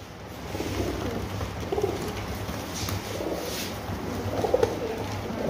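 Pakistani golden double pigeons coo in soft, repeated low phrases, rising and falling in a steady rhythm against a constant background hum.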